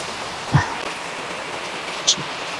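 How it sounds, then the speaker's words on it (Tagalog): Steady, even hiss of rain falling, with a couple of brief louder knocks breaking through the wash of noise. "Ang kahit ulan, umuulan"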